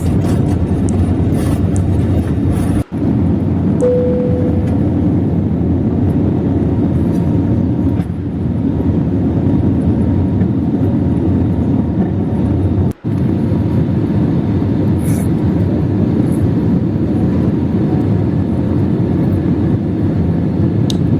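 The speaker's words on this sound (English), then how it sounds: "We are going to make a takeoff, and I'll talk to you after the flight has made its takeoff." An Air India airliner taxis and takes off from Madurai Airport, heard from inside the economy cabin as a loud, continuous low engine roar and rumble that holds steady throughout with no talking.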